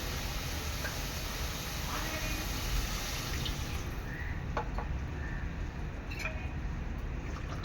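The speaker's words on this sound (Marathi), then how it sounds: "यामध्ये मी थोडंसं पाणी ॲड करणार आहे" Water pours into cooking masala for a taro leaf curry, a continuous splashing pour heard close by that carries on steadily and then thins out near the end.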